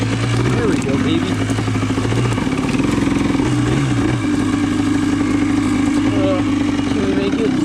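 A Yamaha Blaster ATV on its first ride roars loud and close, its engine revving up and down in repeated throttle surges, with a voice talking over the noise at times.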